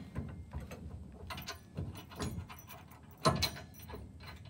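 A bolt is tightened on a Rock Racks vertical bike rack in a hitch receiver, producing uneven metallic clicks and rattles close by, with a sharper clank near the end.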